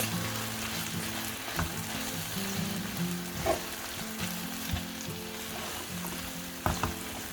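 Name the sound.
plant-based mince frying and being stirred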